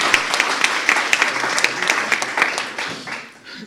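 An audience at a February 2019 conference plenary on young entrepreneurs and new business models claps, with sharp individual handclaps standing out in the applause, which thins and fades toward the end.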